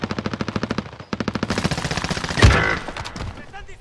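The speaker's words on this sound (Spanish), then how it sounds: "¡Me están disparando!" Automatic weapon fire in Call of Duty Warzone's Verdansk '84 at Lumber Yard, a close, loud, steady burst of rapid shots, a brief gap, then another long burst ending in a heavy impact with a voice faintly underneath.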